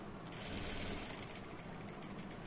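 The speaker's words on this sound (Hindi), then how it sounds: "कैनवास के किनारे किनारे सिलाई डालेंगे फ्रेंड्स" Sewing machine stitching steadily along the edge of a canvas piece, a continuous close whirring hum that runs unbroken and fairly loud throughout, with no talking.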